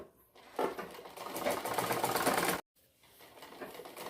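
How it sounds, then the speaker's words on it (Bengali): A sewing machine double-stitching a side pillow cover starts after a brief quiet, runs in a loud steady whir, cuts off suddenly, then resumes more softly. "এইভাবে আমরা ডাবল করে সেলাই করে দেব"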